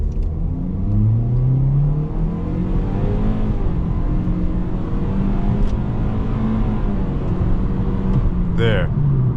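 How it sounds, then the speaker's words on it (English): A 2023 Toyota Corolla accelerating from 0 to 60, the engine whine rising through the gears from inside the cabin, with road rumble underneath and a brief voice near the end. "we're gonna do a quick little 0 to 60"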